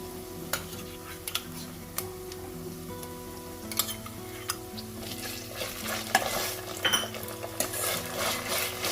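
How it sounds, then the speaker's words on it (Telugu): Ginger garlic paste fries in oil over lightly browned onions for a broccoli and tomato curry, giving a steady low sizzle with scattered spoon scrapes and pan clinks throughout. "ఈ జింజర్ గార్లిక్ పేస్ట్ దీని పచ్చిదనం పోయేంత వరకు ఆయిల్లో ఇలా ఫ్రై చేసుకోండి"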